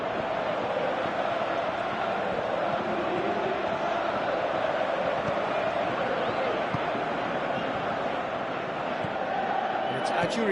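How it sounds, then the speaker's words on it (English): A large stadium crowd in a football video game roars continuously in a dense, steady wash of noise, with a commentator-like voice faintly woven in. "you can feel and hear how the crowd are reacting to all of this"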